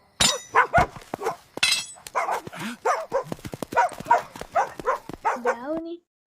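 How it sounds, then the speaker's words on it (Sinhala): A dog barks repeatedly and forcefully in a Sinhala cartoon story, a rapid run of sharp, close barks with yips and a whimpering rise at the end. "තමන්ගේ උපරිම ශක්තිය දාලා බුරන්න ගත්තා"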